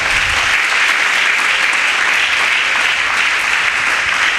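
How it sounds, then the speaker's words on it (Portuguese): A church congregation applauds loudly and steadily together, a dense, even wash of clapping that continues without a break and with no voices on top. "aplauda ao nosso Deus bem forte"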